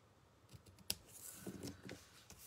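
Small scissors snip through ribbon or paper for an elegant handmade card, a few quick, faint close-up cuts and clicks in a quiet room.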